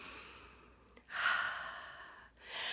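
Slow, audible breaths, a soft sigh-like exhale followed by a second rising breath, taken during a breathing exercise in a clown workshop on emotions and breath, close and alone with no talk.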